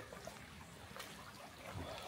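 Soft, steady trickle of a small creek over rocks on the Appalachian Trail, a quiet continuous babble without any talking.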